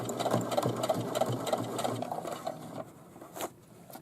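A sewing machine topstitches straps onto a bag in a steady, fairly close run of rapid stitching that slows and fades toward the end, with a short handling noise near the finish.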